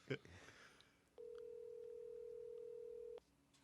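A telephone call being placed to a co-host: a steady dial tone holds for about two seconds after brief talk at the start, loud and clear over a quiet background.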